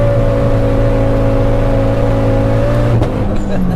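A 570 bhp Ford Focus ST launches hard with a loud, steady engine drone, then stumbles around the three-second mark as traction control cuts power, sounding like a misfire.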